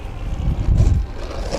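Strong wind buffets the microphone outdoors at an RC plane flying field, a low rumbling gust that swells in the middle and stays close and loud throughout.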